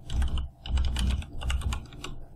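Fast, close clicking of computer keys as a console command is entered in Borderlands 2, coming in uneven bursts of keystrokes with brief pauses and no talk.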